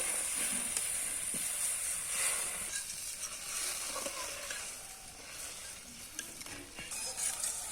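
Water poured into fried spice masala in a pan sizzles and hisses steadily, with faint stirring clatter, close and continuous throughout.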